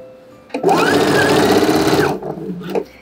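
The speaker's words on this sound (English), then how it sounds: "Don't forget the back stitch at the beginning." A sewing machine runs a continuous burst of fast stitching on a dress seam, back stitching to lock it, starting abruptly, running steadily about a second and a half, then slowing with a few softer stitches at the end.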